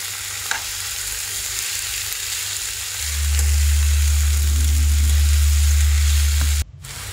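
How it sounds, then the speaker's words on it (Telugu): Brinjal pieces fry in hot oil with tomato and onion for a Rayalaseema masala fry, a steady close sizzle that swells louder partway through, then cuts off abruptly near the end; no talking. "ఇలా ఆయిల్లోకి వేసేసుకున్న తర్వాత టమోటా, ఉల్లిపాయ అన్నీ వంకాయకి పట్టేలాగా మంచిగా ఫ్రై చేసుకోవాలి."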